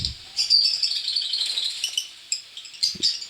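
Lovebirds in a breeding setup, including albino red-eye, decino and creamino pairs, give a steady stream of bright high chirps and tweets, close and fairly loud, with a few low knocks near the end.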